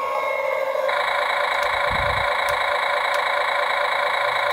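A large radio-controlled toy crane plays its electronic engine sound effect, a steady synthetic idling hum with a tonal whine that starts partway through and continues without talking.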